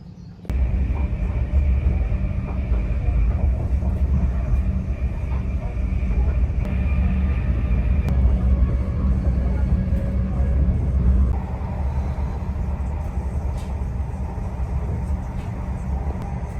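Steady low rumble and rolling drone of a Greater Anglia passenger train running toward Norwich in Norfolk, heard from inside the carriage, loud and continuous with a slight drop in intensity near the end.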